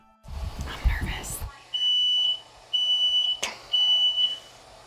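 Regular household smoke alarm in a hallway outside children's bedrooms, set off with a smoke device: three loud, steady high-pitched beeps in a repeating pattern, following brief rustling and muffled talk at the start.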